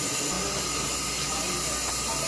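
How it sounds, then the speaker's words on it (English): Steam from a wood-fired boiler on an essential oil distillation unit hisses in a loud, steady, close rush that holds unchanged throughout, with a low rumble beneath it. "We are using wood to generate the steam, and the steam is passing through that condenser to back into oil and hydrosol."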